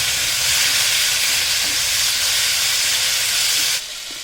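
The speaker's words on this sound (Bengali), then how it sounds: "দিয়ে ভালো করে টমেটোটাকে একটু ভেজে নেব" Tomatoes with salt fry in a pan as part of a pointed gourd recipe, giving a steady, close hissing sizzle that holds level and then drops quieter near the end, with no talking.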